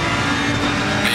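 Ferrari 458 race car engine at Silverstone in a racing game, a brief, loud, steady engine drone with a bright high edge creeping in at the close.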